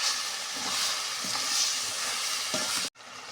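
Water hitting a pan of frying vegetable charchari sets off a loud, steady sizzle with bubbling crackles. It cuts off sharply near the end, then resumes more faintly.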